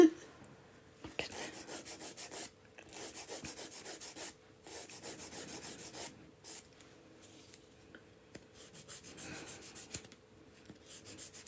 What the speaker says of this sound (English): I'm just using a 240 grit file just to shape them